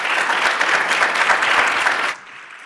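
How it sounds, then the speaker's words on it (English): Audience at a youth economic council panel event clapping for the panelists, a dense, steady round of applause that fades out near the end. "Can we please give our panelists a round of applause?"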